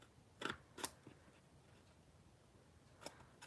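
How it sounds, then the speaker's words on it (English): Scissors snip through card paper at a crafting table, giving a few quick, crisp cuts close by, two near the start and a pair near the end, separated by quiet. "My scissors don't lay quite right, but I'll get it."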